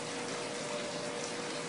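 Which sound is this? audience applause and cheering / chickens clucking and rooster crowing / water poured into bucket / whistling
water poured into bucket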